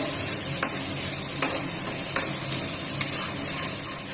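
Tomato and onion paste fried in a pan, a steady close sizzle with a soft hiss throughout, broken by several sharp clicks as a spoon taps the pan while stirring.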